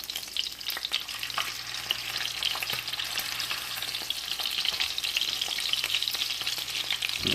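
Duck breasts fry skin-side down in a hot pan, giving a steady, dense sizzle and crackle that runs unbroken throughout, with a low hum underneath and no voices.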